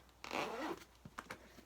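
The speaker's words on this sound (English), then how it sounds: "this thing has a zipper" Zipper being pulled on a doll carrying bag, one long close rasping pull followed by a few short quick zips and tugs, with no talking over it.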